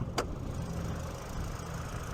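A 2023 Hyundai Sonata N Line's 2.5-liter turbocharged four-cylinder engine runs as a low, steady idle rumble with a brief click near the start.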